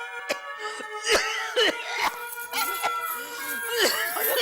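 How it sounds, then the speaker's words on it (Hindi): Someone coughs repeatedly in harsh, uneven bursts, some close together, with strained voiced sounds between the coughs. "अचानक खांसी कैसे शुरू हो गई?"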